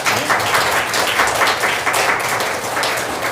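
Church congregation applauding to welcome two missionaries visiting from China, a steady dense wash of clapping throughout, moderately loud, with a faint murmur of voices underneath.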